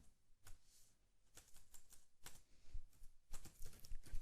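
Quiet typing on a computer keyboard while entering code, irregular clusters of soft key taps spread across the stretch.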